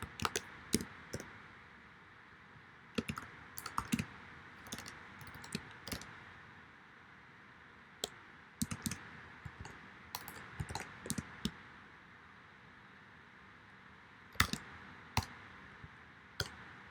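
Sparse bursts of computer keyboard typing while code is entered, quick clusters of clicky keystrokes separated by short pauses, close and fairly quiet over a faint steady background hum.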